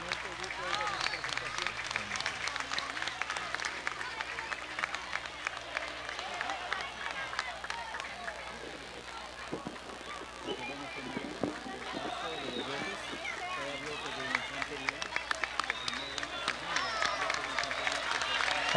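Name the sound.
applause for the National Army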